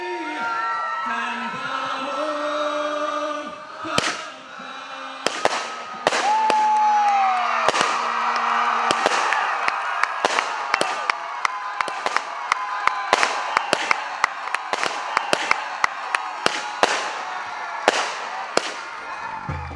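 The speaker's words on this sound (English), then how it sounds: "for a while there we weren't allowed to use fireworks." Fireworks burst and crackle repeatedly at a backyard wiffleball all-star game, sharp loud bangs coming faster toward the end, over a cheering, whooping crowd and people talking.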